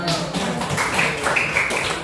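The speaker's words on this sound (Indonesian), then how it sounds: "Oke, terima kasih, tepuk tangan dulu." A group of students gives brief classroom applause at the close of a Grade 9 Indonesian language lesson, light scattered clapping for about two seconds alongside a teacher's speaking voice.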